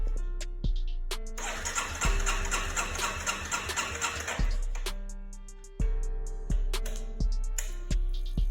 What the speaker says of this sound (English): Now we'll attempt to start the bike.